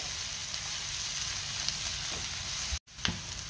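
Curry leaves sautéing in a pan for mutton sukka, a steady close sizzle and frying crackle with light stirring, broken by a brief silent cut near the end before the sizzling resumes.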